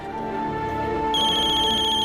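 A phone ringtone plays loudly and steadily, a bright electronic melody with a higher chiming layer joining partway through.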